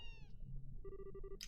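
A cat meows in the Trails in the Sky the 3rd video game, a short high call followed by a brief, tonal, chime-like meow, faint over quiet game ambience.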